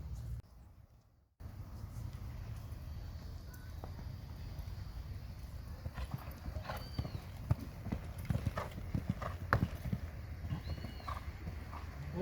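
A young four-year-old horse clip-clops at a calm pace under a rider, its hoof beats steady and fairly close against a low outdoor rumble, with a brief drop near the start.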